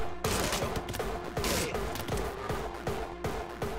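Rapid, continuous automatic Uzi fire from the video game Anger Foot, loud and dense bursts running almost without a break, with game effects mixed in.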